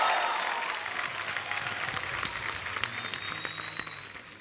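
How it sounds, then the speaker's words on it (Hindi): Studio audience applause on a TV comedy show, a dense burst of clapping that starts loud and gradually tapers off over a few seconds, with crowd noise mixed in. "जोरदार तालियां सिद्धांत और शर्वरी के लिए।"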